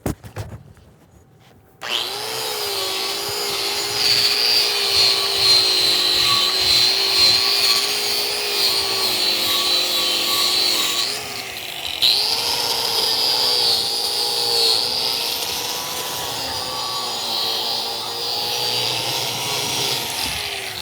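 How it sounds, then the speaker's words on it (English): A wire wheel on a grinder cleans the hot pass of a 6010/7018 pipe weld test in the 6G position, a loud, steady whine with a harsh scrubbing texture. The tool starts after a brief pause and its pitch dips midway. "We're swapping into our wire wheel. We'll go ahead and clean up our whole hot pass with it"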